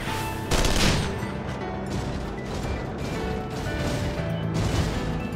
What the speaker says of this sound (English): And you got your machine guns.